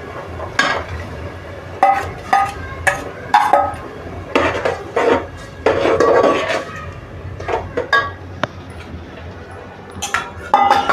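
Tomato paste goes into a pan of softened onions for pav bhaji and is stirred in, with a spatula scraping and clinking against the pan in irregular bursts over a low background, with no talking.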